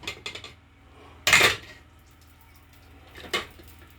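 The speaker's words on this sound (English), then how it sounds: "Now I can use the fork to prod it to see if it is soft enough." A fork clinks and scrapes against a pot of boiled cocoyam (taro), with two or three light taps early, one loud clattering scrape, then a shorter knock near the end, close by in a quiet kitchen.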